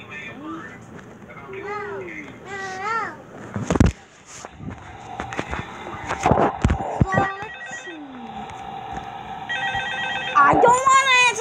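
A telephone rings repeatedly in the Five Nights at Freddy's video game, with clicks and thuds and other game sounds mixed in around the ringing.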